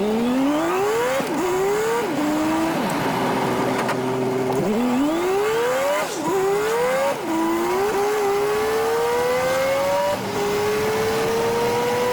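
Old Studebaker car driven hard, its engine revving up through repeated gear changes, each climb in pitch cut by a brief drop before rising again, loud and close with a steady road roar underneath and no talk.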